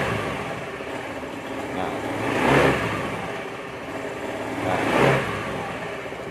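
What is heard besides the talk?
automatic scooter engine sputtering when throttled, weak fuel pump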